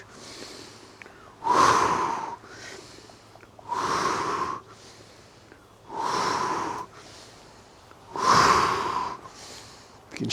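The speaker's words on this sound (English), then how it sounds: "Breathe in and out." Four slow, deep breaths during a gentle qigong exercise, each a long audible inhale or exhale through the nose and mouth, close and clear, separated by short quiet pauses.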